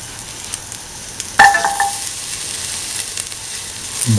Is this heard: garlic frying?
yes